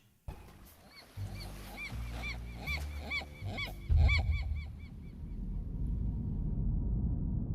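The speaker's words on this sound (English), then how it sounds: "So this bird is a seagull." Seagull calls: a rapid series of harsh, honking cries, loud and close, repeating over a steady low rumble of background noise with no voices.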